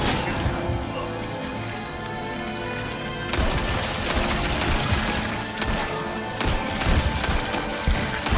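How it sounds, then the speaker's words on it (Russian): Pistol shots in the video game Resident Evil 4 Remake crack sharply over a dense, noisy in-game backdrop, with a few distinct reports after a steadier stretch of ambience. "Кстати, звук выстрелов пистолет нормально так выносит."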